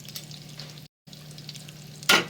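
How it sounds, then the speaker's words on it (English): Eggplant, fingerling potatoes and Brussels sprouts fry in grease with a soft, steady sizzle, dotted with faint crackles, one short dropout and a brighter pop-like burst near the end. "Crackle, crackle, sizzle, pop, crackle. Cook them with grease."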